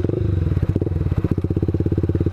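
Motorcycle engine straining on its side stand, a loud close rapid thumping idle with uneven pulses and a brief rev near the start.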